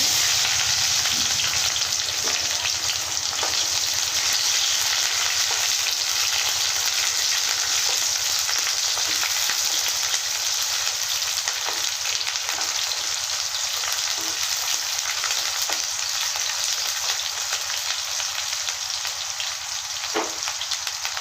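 Chopped onion sautés in a pan with dried red chilies, giving a steady, close frying hiss that runs unbroken for a long stretch, with faint scattered clicks and no voices.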